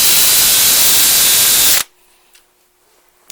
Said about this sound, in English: we can start with a 1/16 inch drill bit, and we work our way up to a 9/64 inch drill bit,